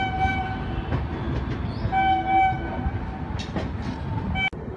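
Howrah Barbil Jan Shatabdi Express running, heard from inside a non-AC chair car: a steady low rumble of wheels and carriage noise throughout, with faint higher tonal squeals and brief clanks, no talk.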